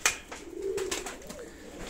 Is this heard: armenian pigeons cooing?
yes